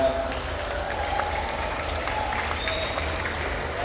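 A crowd applauds the artists, including dancers, singers and painters, at a cultural gathering in West Java, with dense, even clapping at a moderate level that carries on steadily throughout.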